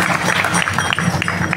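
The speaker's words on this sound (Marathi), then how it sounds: "बाबांसाठी एकदा टाळ्या वाजवा" An audience at a kirtan claps together in a short, dense burst of applause, steady and fairly loud throughout.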